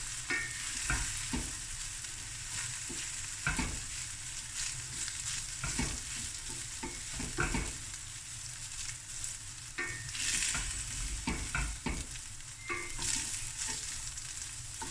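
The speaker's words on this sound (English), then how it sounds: "Stir fry it a bit" Rice with nigella seeds being stir-fried in a pan: a steady, close sizzle broken by repeated scraping strokes of the spatula, with no voices.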